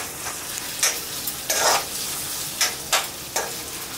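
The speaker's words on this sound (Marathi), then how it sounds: "लसणी बरोबरच मी हा कांदा टाकत आहे आणि हा आपल्याला छानपैकी परतून घ्यायचा आहे" Finely chopped onion and garlic fry and sizzle in a pan with a steady hiss, broken by several louder bursts as a spoon stirs and scrapes through them. No one speaks.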